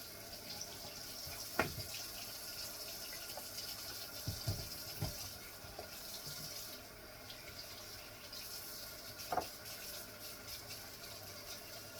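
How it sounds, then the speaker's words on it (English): Tap water runs steadily over a kitchen knife being rinsed in a sink, a continuous hissing splash with a few sharper clinks and knocks scattered through it. "The knife is done. We wash it."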